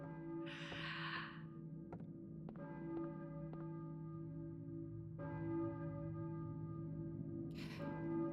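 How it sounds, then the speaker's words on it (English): Church bell ringing in the video game Silent Hill 2, several resonant tolls with long humming decay, distant and faint, accompanied by breathy gasps between strikes. "I hear a church bell, I think. But who's ringing it?"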